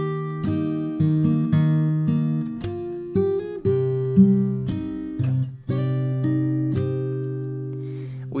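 An acoustic guitar plays the second part of the first verse of a song fingerstyle, with plucked chords and bass notes ringing in a slow, even rhythm. It is close and clear, with no voice over it.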